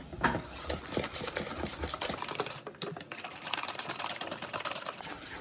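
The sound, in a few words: beating cake batter with a hand whisk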